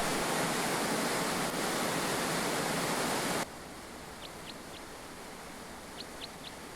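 Korbu waterfall on Lake Teletskoye in the Altai roars as a dense, steady rush of falling water. It is heard close at first, then softer and more distant, with a few faint bird chirps over the quieter stretch.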